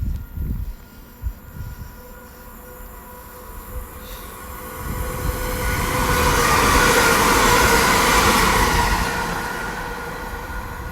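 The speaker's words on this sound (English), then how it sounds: "come zooming by will be an empty coach and stock 3 class 387 Great Western Railway train from London Paddington going to Reading Train Care Depot" A Class 387 Great Western Railway electric train running as empty coaching stock from London Paddington to Reading depot passes through Ealing Broadway, its rumble building from quiet to a loud, sustained roar with faint wheel clatter before easing off.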